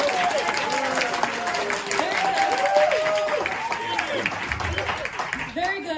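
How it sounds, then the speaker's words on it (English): An audience claps and applauds steadily at a school drama event in Delton, a dense crowd of hands sustained over the whole stretch, with voices mixed in beneath. "I'd like you to applaud now"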